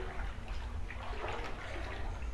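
Water sloshing and splashing in a dim, derelict backrooms-style game level, a steady broadband wash of liquid noise over a low rumble, fairly quiet and continuous throughout.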